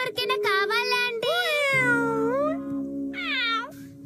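A cartoon cat from Doraemon meows repeatedly in high, drawn-out calls, loud and close, with a sustained tonal background under the cries.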